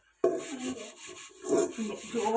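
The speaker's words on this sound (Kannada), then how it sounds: "ಪಾತ್ರೆ ತೊಳೆಯೋದು ಹೇಳ್ಕೊಡ್ತೀನಿ ಹಿಂಗೆ" Cooking pot scrubbed by hand during village dishwashing, a steady rough rubbing and rasping that swells and fades in repeated strokes, close and fairly loud, no talk.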